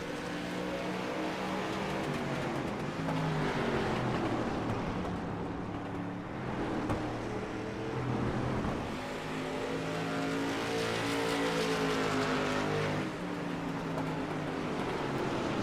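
Street stock race cars roar around the oval at Stafford Motor Speedway, a dense, continuous wash of several engines revving and droning together as the pack passes, loud and sustained for the whole stretch.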